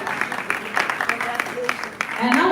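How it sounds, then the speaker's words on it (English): An audience at the Heroes of Change 2025 awards night claps in a dense, lively burst that swells near the end, while a voice briefly rises over the noise. "The more you clap, the likelier your nominee will win the ultimate prize."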